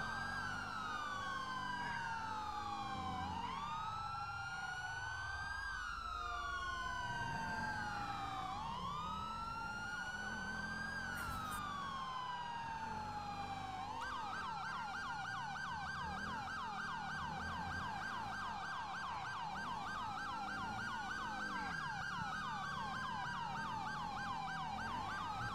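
Several emergency vehicle sirens from GTA 5 police units wail and yelp continuously, overlapping, with wavering up-and-down sweeps that switch to a faster pattern midway, loud and steady over faint engine rumble.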